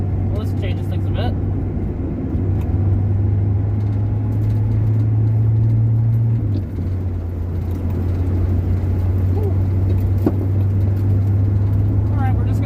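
A Ford Mustang with a freshly cleaned carburetor drives steadily, its low engine drone continuous and close throughout, with a brief shift in pitch partway as it moves through traffic.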